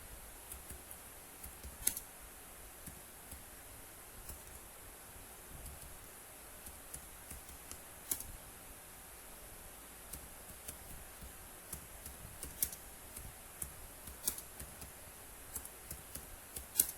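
A computer keyboard is typed on at an office workstation, giving faint, sparse clicks and taps scattered irregularly over a quiet background.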